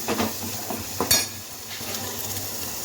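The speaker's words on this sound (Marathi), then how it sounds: "आता आपण वाटण केलेला मसाला टाकलेला आहे आणि ते 5 मिनिटं आपल्याला परतवायचं आहे" Ground masala paste sautéed in oil in a pot: a brief steady sizzle with the scrape and clink of a spoon stirring against the metal, close and moderately loud.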